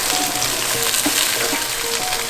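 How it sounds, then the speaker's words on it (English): Onions frying in canola or vegetable oil in a pot for beef stew, with a steady close hiss and crackle and faint stirring scrapes. "So the first thing I'm gonna throw in there is gonna be the onions."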